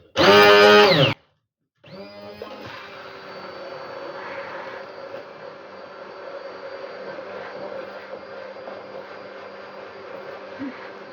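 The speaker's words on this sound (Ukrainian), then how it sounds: "Все, починаю збивати емульсію." A blender whips an emulsion of odourless oil for lenten mayonnaise: a steady, close, buzzing whirr runs unbroken for about nine seconds after a short loud burst and a pause.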